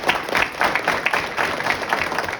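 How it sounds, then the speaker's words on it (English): An audience claps together at a celebration, a loud, lively burst of many hands with rising and falling surges of clapping and a few crowd calls mixed in. "clap it up"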